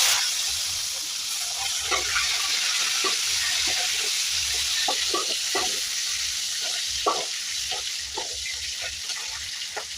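Green chilies and ginger fry in a pan for a tomato and coriander chutney, giving a steady close sizzle with scattered crackles and stirring scrapes throughout.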